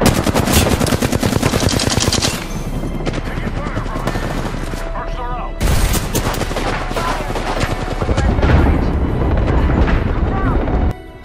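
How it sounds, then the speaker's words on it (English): Gunfire in the shooter game Apex Legends: dense, loud bursts of automatic fire and heavy booms crackle almost continuously, with short pauses between volleys and voices talking over the action. "Each gun has a very heavy punch that'll be heard from far away, with very accurate pops and booms for their appropriate caliber."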